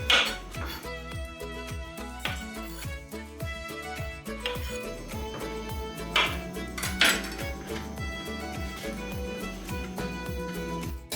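A knife trimming the ends off partially peeled small zucchini, with repeated clicks and taps on a board and clattering dishes under background music.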